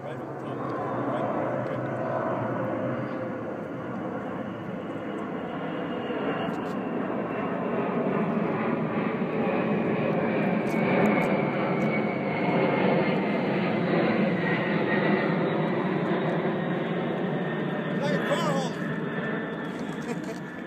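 Space Shuttle Endeavour riding atop its carrier jet passes overhead in Sacramento, a broad, steady jet-engine roar that swells and slowly fades over about twenty seconds, with people talking underneath.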